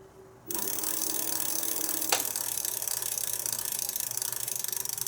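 An Aniioki A8 e-bike wheel spins freely past a brake caliper that isn't touching, giving a fast, steady ratcheting freewheel click up close, with one brief sharp tick partway through.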